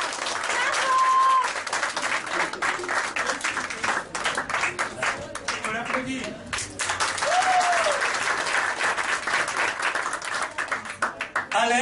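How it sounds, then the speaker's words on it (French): Audience applause for a student receiving a diploma at a primary school end-of-year show: loud, continuous clapping from a crowd, with voices heard over it. "qu'on peut l'applaudir"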